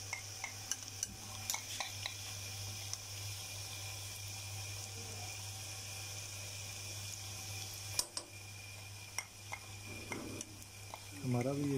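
Onion frying in a pan for mutton karahi gives a quiet, continuous sizzle with occasional stirring clicks, then a brief splash of water near the end, all faint and without speech.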